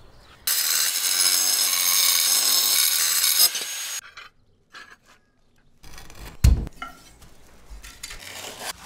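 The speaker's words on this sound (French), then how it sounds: "Pour celles situées sur le mur, utilise la meuleuse d'angle." An angle grinder cuts porcelain stoneware tile: a loud, high, steady whine for about three seconds, then scattered faint scraping and handling noises and a sharp knock near the end.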